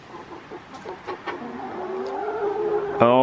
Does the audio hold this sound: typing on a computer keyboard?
no